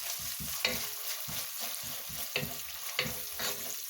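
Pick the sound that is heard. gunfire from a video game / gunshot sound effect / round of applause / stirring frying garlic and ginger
stirring frying garlic and ginger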